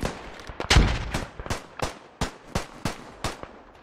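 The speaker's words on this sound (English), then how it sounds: "I hear MG, I don't see it." Machine gun fire in the World War I shooter Beyond the Wire, a loud close shot followed by a string of sharp, evenly spaced rounds that echo and fade slightly, firing at a measured steady rhythm.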